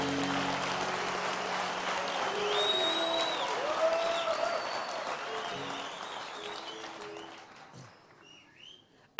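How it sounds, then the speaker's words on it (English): Dense applause from an audience at a national youth service gathering, a loud wash of clapping that holds steady and then gradually fades away near the end. "That clapping hands is lacking air time."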